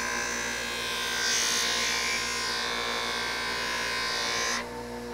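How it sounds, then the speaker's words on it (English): A coarse polishing wheel buffs aluminum on a vintage motorcycle part, a loud steady motor whine with a hissing grind that swells midway, then drops suddenly as the piece comes off near the end. "Also, polishing aluminum."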